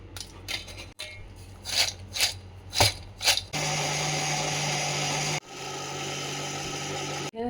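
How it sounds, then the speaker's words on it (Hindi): Electric mixer grinder crushing three small packets of Parle-G biscuits: several short, uneven bursts of whirring, then a loud, steady motor drone that runs on, pauses briefly and resumes. "मिक्सचर है"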